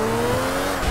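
A Zentorno supercar driven in a modded GTA San Andreas with a GTA 5 map, its engine droning steadily up close with a tire squeal running under it, no talking.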